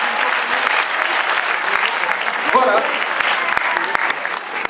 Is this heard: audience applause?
yes